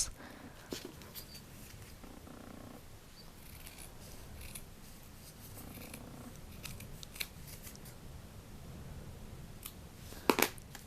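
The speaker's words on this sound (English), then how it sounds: "So now we'll cut this out using our fabric scissors." Fabric scissors snip through cloth for zero-waste face wipes, giving soft close cuts and rustling fabric at low level, with a sharper scissor clack near the end.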